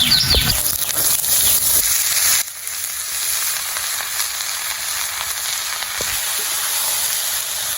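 Chopped bottle gourd dropped into hot oil in a kadai with onion and spices. There is a loud hissing sizzle that drops abruptly after a couple of seconds into a steady, softer frying hiss, with no talking.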